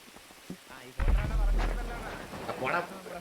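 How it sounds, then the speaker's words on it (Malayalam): Rain comes down with a sudden heavy whoosh and low rumble, a loud close downpour that swells after a quiet start, with a voice faintly audible beneath it. "മഴ"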